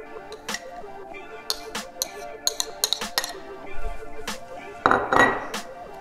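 Cheese, one egg and softened butter mixed by hand into a khachapuri filling, with close, irregular clinks and taps against a bowl and a brief soft squelching stretch near the end; no talking.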